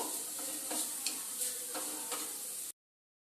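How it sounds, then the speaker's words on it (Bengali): Chicken with garam masala sizzles in a wok under soft sizzling, with several close, distinct scrapes and clinks of stirring before the sound cuts off. "দিয়ে আবারও খুব সুন্দরভাবে নাড়িয়ে চাড়িয়ে নেব"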